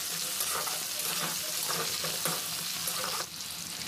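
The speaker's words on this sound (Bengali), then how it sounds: "এই তেলে দিয়ে দিচ্ছি আলু। তো আলুটা এখানে ভালোভাবে ভেজে নিতে হবে।" Potatoes fry in hot oil in a wok, giving a loud, close, continuous sizzle with soft scraping stirs mixed in throughout, with no talking.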